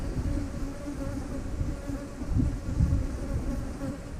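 Bees buzz steadily around an open beehive frame during a hive inspection, a dense close hum that swells louder for a moment near the end, with no talking.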